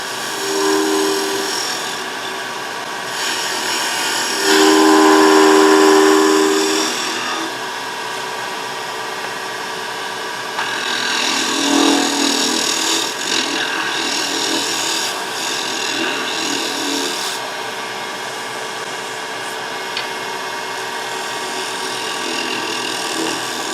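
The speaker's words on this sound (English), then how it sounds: "I'll do that with a bowl gouge, and we'll just turn that on this end" A bowl gouge cuts a wooden gavel head held on a lathe, shaping its dome end. A steady, close scraping and rasping hiss runs throughout, with louder, harsher bursts near the start and in the middle.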